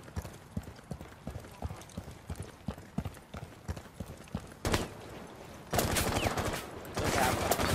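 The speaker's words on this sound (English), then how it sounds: "Shots coming from behind." Gunfire rings out in the tactical shooter Rainbow Six Siege. Rapid, evenly spaced shots run for several seconds, then heavier, louder bursts of fire close by.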